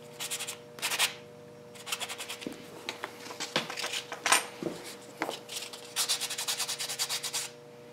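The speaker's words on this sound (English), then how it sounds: "use some blocks here, sanding and buffing blocks" A sanding block rasps across a surface in repeated short strokes, some quick and rhythmic, others scattered, close and moderately loud.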